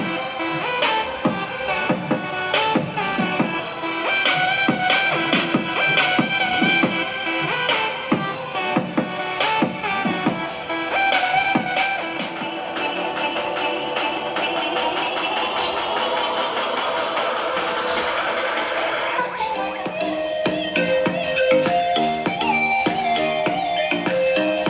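Music plays through a Halonix 9W LED Bluetooth speaker bulb, a dense full-range track with steady beats running continuously at an even, fairly loud level.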